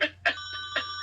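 A telephone rings in a home with quick electronic trilling bursts, fairly close and repeating in a steady pulse over a low background hum.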